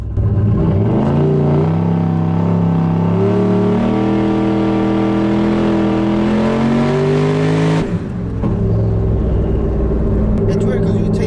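A turbocharged LS-powered street truck accelerates hard at roughly quarter throttle, its loud engine note climbing steadily in pitch before a sharp drop at a gear change, then pulling again.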